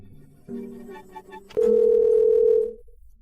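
A telephone rings out unanswered, a steady electronic tone sounding in two bursts, the second louder and sustained, with no one picking up and no speech.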